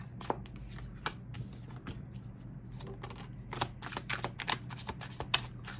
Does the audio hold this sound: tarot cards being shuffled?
yes